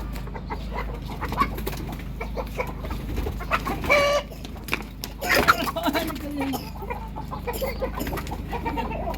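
Chickens, mostly hens kept in an enclosure, clucking close by, with scattered squawks and calls over a low background hum and some movement noise.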